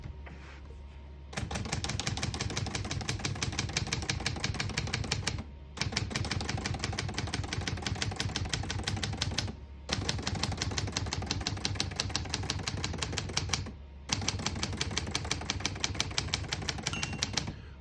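A 1967 Hermes 3000 vintage portable manual typewriter being typed on, rapid crisp key strikes in long runs separated by brief pauses for carriage return, close and clear with no talk.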